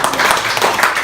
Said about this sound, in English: let's all give Dr. Paul Marktag a big round of applause